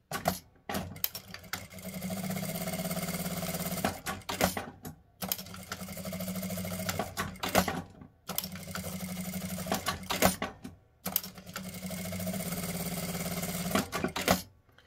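Sewing machine stitching a simple fabric bag in four bursts of steady, close mechanical whirring, each about three seconds long, separated by short pauses with clicks as the fabric is turned.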